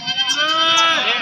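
Goats at a livestock market bleat in one loud, quavering, wavering cry close by, with voices faintly around it.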